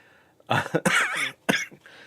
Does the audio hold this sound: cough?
yes